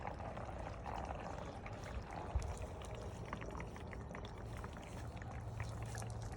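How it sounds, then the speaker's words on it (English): Freshly poured water trickles down through a vertical garden planter indoors, a faint, steady dribbling with small irregular drips and splashes close by. "If you listen closely, you can hear it trickling down."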